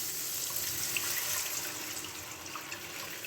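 Lukewarm water poured steadily into a pan of peas omelet curry, giving a continuous, even splashing rush that carries on from start to finish with no talking.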